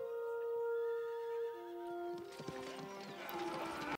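Horse neighing and hooves in a 1992 film, a long, high whinny that wavers and fades, followed by a few faint hoof clops among other film sounds.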